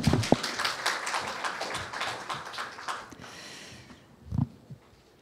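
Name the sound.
audience applause welcoming a speaker to the stage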